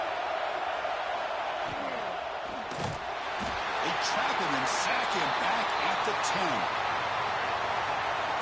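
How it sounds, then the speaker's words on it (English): A loud, roaring college football stadium crowd during a playoff game fills the background continuously while a commentator talks over it. "listen to this crowd noise. This stadium is vibrating."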